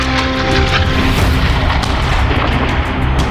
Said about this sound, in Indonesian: Rekaman di lapangan menunjukkan ledakan dahsyat yang disertai kepulan asap tebal